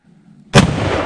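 A single loud, sharp rifle shot rings out during whitetail deer hunting on Wisconsin farmland. It cracks out of a quiet low hum and leaves a rumbling, echoing tail.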